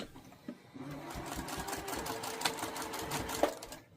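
A sewing machine runs a steady stay stitch across a scrappy quilted pot holder. The close, continuous mechanical whir starts about half a second in and carries on to the end, with no talking.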